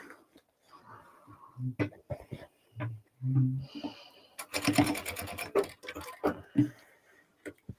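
A sewing machine runs stitching over the seams of a crossbody bag in short stop-start bursts, close up. A brief faster run sits in the middle, mixed with handling clicks and soft voice-like sounds.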